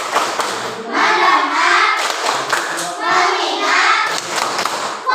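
Schoolchildren in a classroom clap the 'tepuk fokus' rhythm together in loud, steady bursts of hand claps, while a teacher and the children chant along over the clapping.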